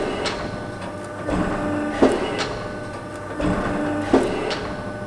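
A Morgan Rushworth guillotine run from a Cybtouch 8 controller makes repeated cuts. A steady machine hum carries two cycles of sliding movement, each ending in a sharp nearby thud.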